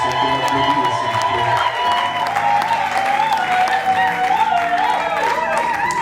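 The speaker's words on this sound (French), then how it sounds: "Est-ce qu'on peut applaudir, s'il vous" Applause from wedding guests at a civil and customary marriage ceremony, steady and fairly loud for several seconds, with cheering and voices in the crowd.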